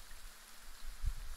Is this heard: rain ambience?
yes